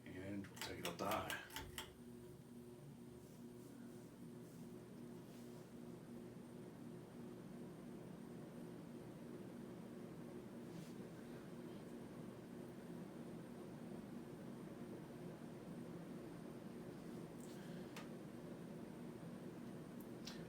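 An S.M.C. Diamond Crystal DCR-52 ceiling fan runs on high speed, giving a steady, even hum and airy whoosh that holds nearly constant throughout, with a brief clatter at the very start.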